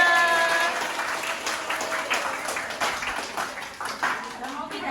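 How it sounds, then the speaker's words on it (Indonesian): A group applauds everyone at an anti-bullying session for young children, with brisk clapping that starts loud and gradually tapers, and children's voices mixed in beneath it. "Tepuk tangan untuk semuanya"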